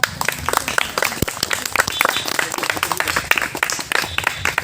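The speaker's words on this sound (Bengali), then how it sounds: "দাদা হাততালি" An audience at a coaching centre's annual prize distribution ceremony breaks into dense, sustained applause, with many hands clapping unevenly at close range.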